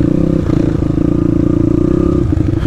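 A YCF pit bike engine idles roughly and revs lightly under a small amount of throttle, giving a loud, close, buzzing putter with a steady rapid pulse and slight rises in pitch.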